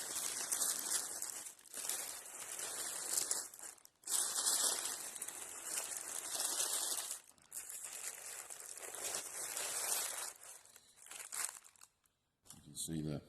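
Warm smoked brisket being unwrapped from paper, with loud, sustained crinkling and tearing that runs almost without a break, stopping briefly a few times before a quiet end.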